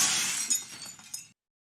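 Glass shatters as a door slams shut in The Amazing Spider-Man, a bright crash that trails into tinkling shards for about a second before cutting to silence.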